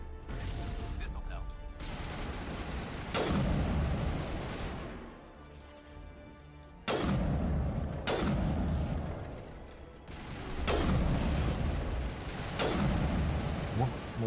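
Gunfire in the Mass Effect video game: repeated loud bursts of shots and booming impacts in irregular volleys, dense and continuous with brief lulls, heard close with game effects around them.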